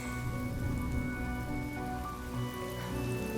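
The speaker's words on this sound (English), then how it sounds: "Without this rain," Steady rain falls in a Honkai: Star Rail game scene, a dense continuous patter on surfaces, layered over a low tonal musical background with no talking.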